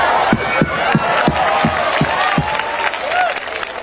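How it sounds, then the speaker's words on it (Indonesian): An audience at a comic religious sermon claps and cheers in a burst of loud, rhythmic applause with crowd voices mixed in, close and lively throughout. "mantap tepuk tangan"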